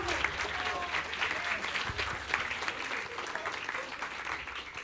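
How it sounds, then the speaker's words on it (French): Audience gives sustained applause for Kélian, a steady dense wash of many hands clapping, moderately distant and even throughout. "un tonnerre d'applaudissements pour Kélian"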